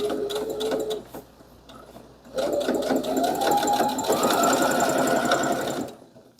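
A sewing machine needle stitches apron fabric in quick rattling bursts. After a brief pause it returns in a longer, louder run whose whine climbs slightly in pitch before it stops.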